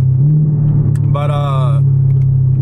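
Deep, steady exhaust rumble from a straight-piped 2023 Chevrolet Camaro ZL1 with no active exhaust, idling loud and close throughout, with a brief spoken word over it.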